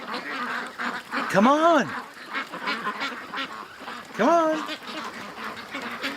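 Two loud, harsh quacking calls from a farm duck flock ring out near the start and again a few seconds later, each a short descending burst, while a man calls out to a stubborn guardian dog nearby amid steady background noise.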